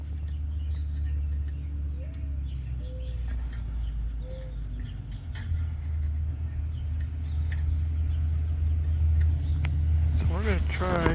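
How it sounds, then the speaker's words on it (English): A large U-Haul moving truck rumbles past outdoors with a deep, steady low engine drone that swells toward the end, birds chirping faintly in the background. "It's a big U-Haul truck."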